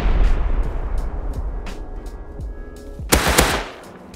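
Rapid gunfire in the survival video game Rust during a raid, a string of sharp close shots in quick bursts, with a louder, heavier volley near the end.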